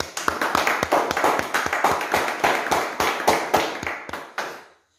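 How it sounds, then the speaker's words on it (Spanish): Applause greets team captains of Deportivo Saprissa and Club Sport Herediano being introduced at a triangular tournament presentation, a crowd clapping steadily with sharp overlapping claps for about four seconds before tapering off. "Un aplauso."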